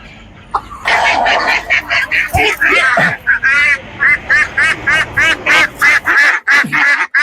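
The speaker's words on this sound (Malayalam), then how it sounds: "ഇത് നാടൻ താറാവ് കിടപ്പുണ്ട്" Native ducks kept for sale at a poultry stall quack loudly and close by in rapid repeated bursts, with a few calls overlapping.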